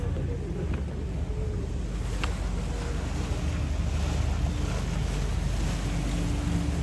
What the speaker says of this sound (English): And there goes the water bus.